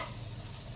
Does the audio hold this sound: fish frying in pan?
yes